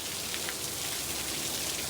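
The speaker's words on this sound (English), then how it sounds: "It's pouring rain out here." Heavy rain pours down outdoors as a steady, dense hiss that stays even from start to finish, with no voices.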